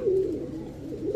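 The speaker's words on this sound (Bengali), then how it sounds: "প্রচুর বড় সাইজের একটা এলাহিবাদ কালদম নর কবুতর।" A large male Elahibad Kaldam pigeon coos in a low, continuous throaty rumble, close and fairly loud, with no talk over it.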